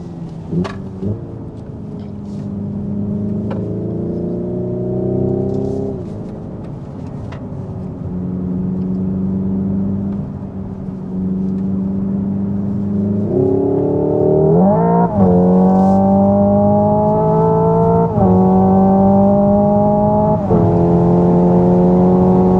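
A 2024 Hyundai Ioniq 5 N electric car accelerates around Sydney Motorsport Park, its synthetic engine tone rising in repeated gear-like steps and then dropping off. The sound is loud and close, with no speech.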